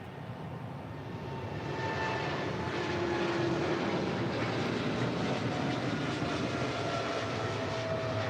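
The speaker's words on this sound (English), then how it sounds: "That was Polar Air Cargo 962 departing to Cincinnati" Polar Air Cargo flight 962, a cargo jet at LAX, departing for Cincinnati: a loud, sustained engine roar that swells over the first two seconds and then holds steady and close throughout, with no voices.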